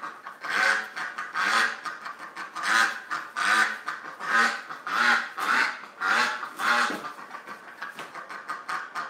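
A video game duck quacks in a repeated series of loud, nasal honking calls, about a dozen in quick succession with short gaps, heard alone and close.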